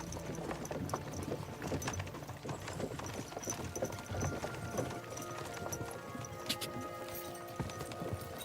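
Horse hooves clip-clop steadily at a walking or trotting pace in a medieval open-world game, mid-distance and moderately loud, with faint game ambience underneath.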